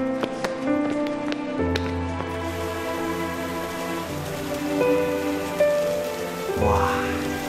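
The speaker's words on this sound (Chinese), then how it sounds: "正好赶上一场大雨" Heavy rain falling at the seaside on a summer night, a steady wash of downpour heard under prominent background music with no voices.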